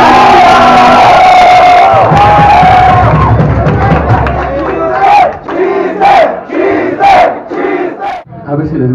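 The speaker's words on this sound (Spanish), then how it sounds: "Un aplauso para Franco Escamilla." A live comedy audience in Puebla cheers, whoops and shouts loudly for comedian Franco Escamilla, a dense roar that breaks into separate bursts of yelling and whistles toward the end.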